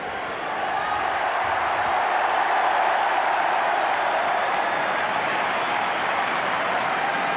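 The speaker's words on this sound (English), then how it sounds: "that was the biggest cheer of the day when they saw him come out of the tunnel" A large football crowd roars and applauds in a sustained, dense wall of cheering at a 1986 Ipswich Town versus Oxford United match as a heavily bandaged player returns to the pitch.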